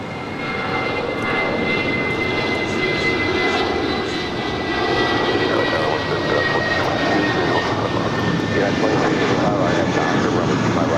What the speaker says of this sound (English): This is American 413 off to Phoenix. It's an A319.